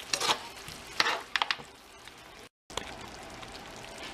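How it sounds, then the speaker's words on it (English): A red curry made with coconut milk and fish sauce cooks in a pot, soft simmering and stirring sounds broken by a few sharp clinks of a spoon, close and quiet with no talk. "So we are going to let this cook for a little while and let it boil."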